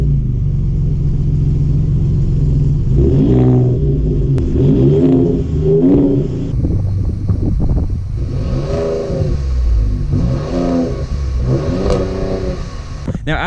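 Ford Raptor pickup truck exhaust revving: a deep, loud idle rumble broken by several sharp throttle blips, each rising and falling, recorded close with no talking.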